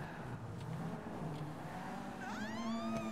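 Car engine droning while driving in GTA, a steady hum with shifting pitch that rises into a revving, accelerating whine near the end, heard alone without talk.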